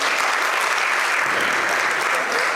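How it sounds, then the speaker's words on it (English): A large audience at a book launch event in Kolkata gives a big round of applause welcoming the speakers, steady dense clapping that stays loud and unbroken throughout. "Let's welcome Mr. Amish Tripathi and conversationalist Ms. Aarti Gupta with a big round of applause"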